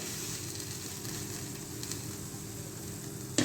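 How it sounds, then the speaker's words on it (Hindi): Water heating in a pot on the stove for a lentil and chickpea pulao, giving a steady soft sizzle and hiss that holds even throughout with a brief knock at the end. "पानी बॉयल होना स्टार्ट हो गया।"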